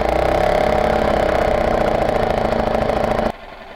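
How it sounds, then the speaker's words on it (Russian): A Parsun 6 hp four-stroke Chinese outboard boat motor runs loud and steady at close range, its even mechanical drone holding before dropping abruptly to a faint idle near the end, with no voices. "Лодочный мотор Парсун на 6 лошадок, 4 такта, бесконтрольно набирает обороты."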